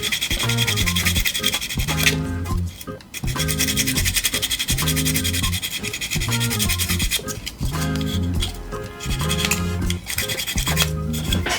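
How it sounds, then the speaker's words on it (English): Sanding a plastic part from a scale model kit to remove a lip, steady loud rasping strokes in a continuous back-and-forth rhythm with brief pauses, very close. "just keep sanding until that lip goes away"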